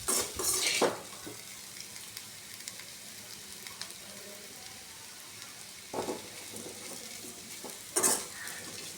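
Raw plantain roasts in a covered pan with a faint steady sizzle, broken by a few brief clatters of a spoon and lid as it is stirred.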